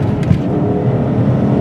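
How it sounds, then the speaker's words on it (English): A V8-swapped Toyota Altezza engine roars steadily up close after a downshift, a continuous heavy rumble of acceleration with no voices. "At any moment you can drop some gears."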